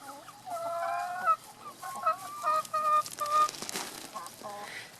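Eleven hens and a cockerel settle into their new coop, giving a run of close honking, clucking calls in irregular bursts, some overlapping, with brief pauses between.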